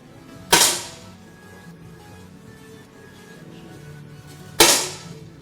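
Two sharp gunshots in a shooting competition's gold medal match, each a loud close crack with a brief decaying tail, spaced about four seconds apart over quiet background.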